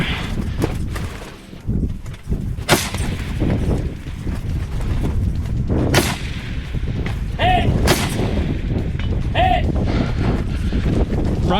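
Several rifle shots firing M193 55 grain ball ammo at a long-distance target during a ruck-and-gun biathlon competition, sharp cracks spaced seconds apart over steady wind noise, with voices faintly in the background.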